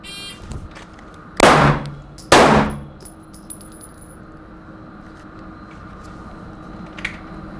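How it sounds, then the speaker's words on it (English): Two sharp, loud gunshots on a live fire range ring off steel targets, the first close and the second a moment later on a farther plate, each with a metallic clang and a decaying tail, followed by quiet. "I'll shoot the one and then transition over and shoot the other one"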